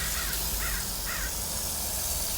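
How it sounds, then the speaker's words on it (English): Several crows caw in the background outdoors at a roadside stop, about three separate calls spaced across the moment over a steady rumbling hum. "You can hear all these crows in the background by me."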